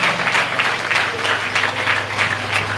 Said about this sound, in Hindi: क्यों ना जोरदार तालियों के साथ परमेश्वर का धन्यवाद, जोरदार तालियों के साथ